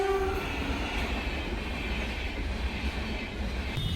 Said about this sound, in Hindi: यहाँ पे अभी ट्रेन के आने का समय हो रहा है, तो इस वजह से फाटक लगे हैं।